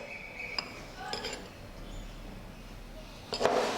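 A spoon stirs besan batter for onion pakora in a bowl. A few sharp metallic clinks against the bowl rise over a quiet background, with a denser scrape and clatter at the end.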